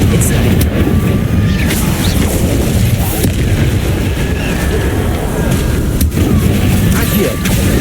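Spell blasts from the Hogwarts Legacy video game, Confringo and Incendio, erupt as dense, continuous booming and crackling, loud and close throughout, with a few sharper bursts standing out from the roar.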